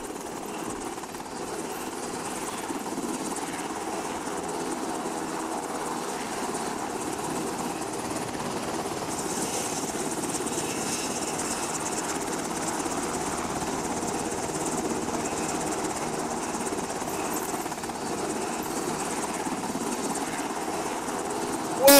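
A helicopter flying in the military video game ArmA 2, its rotor and engine producing a constant, close, droning thrum that holds steady for the whole stretch without a break.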